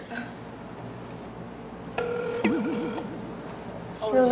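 A phone call's ringback tone plays as a steady electronic burst from a handset, with faint talking and wavering background sound around it.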